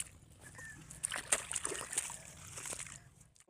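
Irrigation water runs through a field channel on a Saraiki village farm, giving soft, faint splashing and sloshing with a few brighter trickling spurts near the middle.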